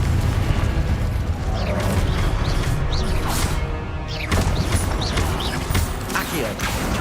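Confringo blasting spells in Hogwarts Legacy on PS5, loud crashing bursts and rumbling impacts over a constant dense roar of game sound, with a voice talking through the action.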